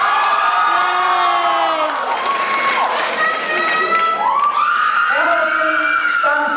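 A crowd cheers and whoops at a 2004 graduation ceremony, with loud, overlapping shouts and high rising yells that stay dense throughout and are close and lively.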